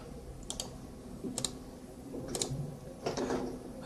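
Mouse clicks in spline-editing software, four sharp isolated clicks spaced about a second apart, close and fairly quiet over a low steady hum.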